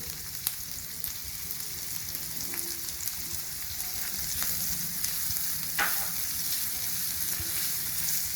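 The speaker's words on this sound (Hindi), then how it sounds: "देखिए कढ़ाई हमारी गर्म हो गई है। इसमें हमने 1 चम्मच तेल डाला है। सबसे पहले हम ये प्याज डालेंगे।" Onions sizzle and fry in hot oil in a kadhai, a steady close crackle with occasional sharper pops and stirring clicks, no talking.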